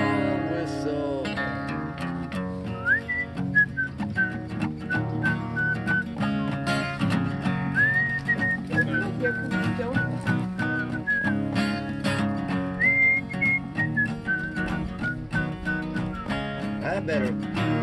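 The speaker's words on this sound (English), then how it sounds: "Whistle." A person whistles a melodic tune in a Vermont original folk song, the whistled line rising and falling over steady guitar and band accompaniment at an even volume.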